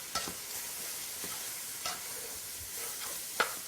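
Chili spice mix sizzles in olive oil with ground turkey in a pot, a dense steady frying hiss with a few soft stirring scrapes, close and continuous with no talking.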